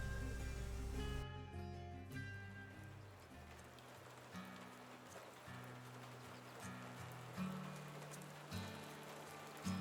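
Steady rain patters and hisses in the background, with soft, low music playing underneath.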